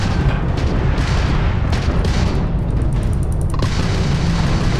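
Spaceship weapons in the game Starfield pounding an enemy ship's engine, a dense, loud barrage of booming blasts and bursts that fills the whole stretch without a break.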